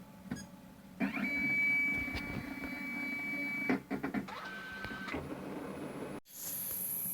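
A disc repair machine resurfacing a scratched game disc whirs and hums steadily with a mechanical tone, shifting pitch partway through and stopping before a final click and a new hum.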